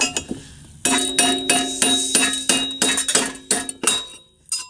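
Small engine flywheel being popped off by repeated hammer strikes, about eight sharp metallic clinks with ringing tones in a quick irregular rhythm, close and loud.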